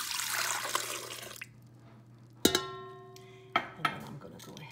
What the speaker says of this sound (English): I'm just gonna pour the milk in there.